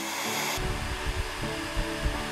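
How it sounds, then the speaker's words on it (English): A construction heat gun switched to full power runs with a loud, continuous airy roar and a low fan rumble, steady and close after it starts up. "we will show you what a construction hairdryer is capable of. Unscrew the power to full and turn it on."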